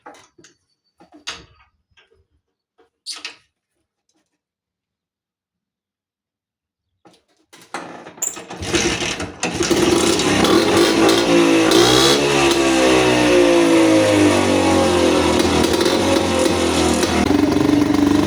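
A WSK 125 motorcycle engine being kicked over with a few sharp clunks and a pause, then catching and running loud and close, revving up and holding a rough, steady roar to the end.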